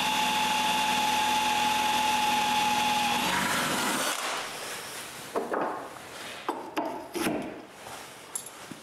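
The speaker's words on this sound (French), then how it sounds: "Je perce donc le trou pour la barrure que j'ai tournée il y a plusieurs jours" A power drill boring a hole in wood for a hand-turned wooden latch, with a steady high motor whine that cuts off, followed by scattered knocks, clicks and handling noises, close up and without speech.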